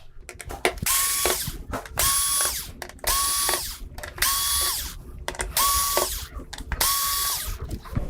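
A power screwdriver backs out screws from the main board of a Samsung UN46D6000SF television, giving six ratcheting whirs of even length with short pauses between them, close and loud.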